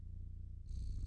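In the video game Stray, a cat's steady low purring rumbles throughout, with a brighter electronic music tone entering partway and continuing over the purr.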